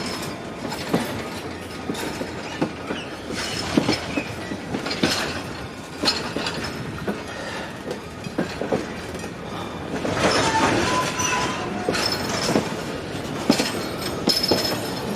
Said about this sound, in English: let's watch this train head on out of here